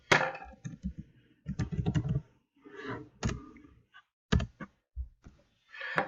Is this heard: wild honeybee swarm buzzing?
no